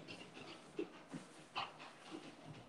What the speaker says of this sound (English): my dog is going a little bit nuts